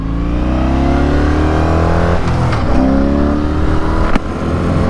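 A Sabre motorcycle with carburetors, ridden after sitting unused for a while, runs loud and close, its engine note climbing and falling through several revs with a sharp burst near the end, no talking.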